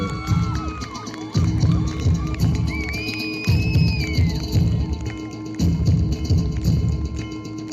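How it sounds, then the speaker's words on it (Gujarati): Crowd at a cricket trophy ceremony cheering and shouting loudly in waves, with children's voices and whistles rising above the dense babble and some applause underneath. "અરે જોરદાર તાળીઓના નાદ સાથે વધારે"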